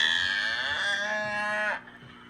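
A single cow gives one long, loud, close moo with a rich tonal drone that holds steady and then stops abruptly, leaving faint background hum and no talking.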